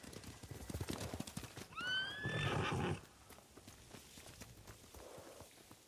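Samurai horse in the video game Ghost of Tsushima gives a loud whinny midway, surrounded by rhythmic hoof clip-clops as it trots, with a rough outdoor background.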